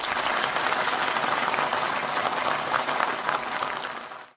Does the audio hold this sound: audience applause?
yes